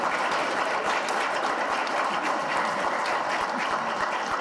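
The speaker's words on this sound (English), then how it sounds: "Give a big round of applause for Congressman Earl Blumenauer." An audience at an economic prosperity forum applauds, a dense steady patter of clapping that holds evenly for several seconds with no voices over it.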